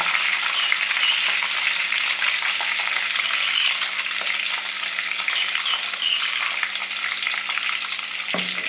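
Ingredients fry in a hot pan as part of a chicken dinner, producing a loud, continuous close sizzle that holds steady throughout, ending with a single sharp utensil knock near the end.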